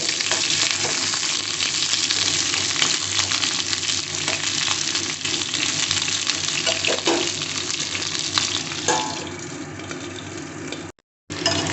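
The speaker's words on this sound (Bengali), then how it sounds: "এইবারে এই তেলে দিয়ে দিচ্ছি পটলগুলো লাল লাল করে ভেজে নেব" Pointed gourd pieces fry in hot oil in a pan, a loud, steady, close sizzle lasting throughout with occasional stirring scrapes and a brief cut near the end, with no talk.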